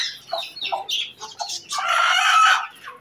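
Roosters and hens kept as pets clucking and crowing close by, a run of short calls building into one loud sustained crow, with no talking.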